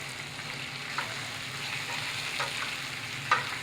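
Shrimp with green onion sizzle and fry in a pan in a kitchen, a steady hiss of frying with a few faint clinks of stirring, no talking.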